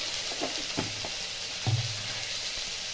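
Orange chutney with five-spice seeds, salt and turmeric hisses softly in a frying pan while a spoon stirs it, giving a low steady sizzle broken by several scraping knocks.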